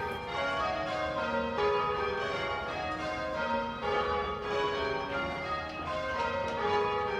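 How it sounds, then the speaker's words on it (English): Church bells pulled by ringers on ropes ring rounds, overlapping bright metallic peals sounding in steady succession, full and resonant with no talk. "Here are the bell ringers."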